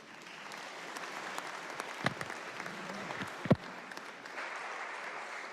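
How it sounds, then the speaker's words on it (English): Audience applause fills a state House of Delegates legislative chamber, a soft, steady patter of many hands clapping for several seconds with a couple of sharper individual claps standing out. "Give them a big round of applause, please."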